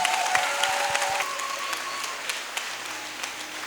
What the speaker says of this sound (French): je voudrais qu'on acclame nos mamans pour leur dire merci